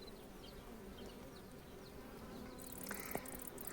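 A continuous drone of bees buzzing nearby around African blue basil flowers, with a few brief louder passes and faint background chirps near the end.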